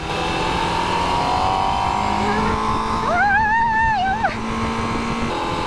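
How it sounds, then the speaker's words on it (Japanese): Steady engine drone and exhaust of a Honda CBR1000RR-R motorcycle cruising at highway speed, with a rising whine briefly sweeping upward midway, loud and continuous throughout. "右側から聞こえるエキゾースト音が全然違う"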